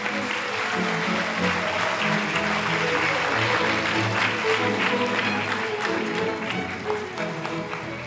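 An audience at a Korean rally applauds to welcome a National Assembly member to the stage, with steady sustained clapping throughout and some tonal sound underneath that may be background music.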